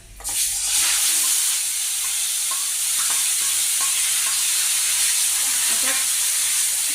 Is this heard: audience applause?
no